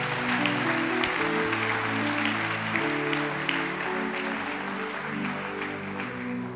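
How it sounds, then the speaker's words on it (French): Applause from a church congregation during a sermon on prayer and the Holy Spirit: steady, dense clapping that runs the whole time over sustained music. "Acclame d'abord pour le Saint-Esprit."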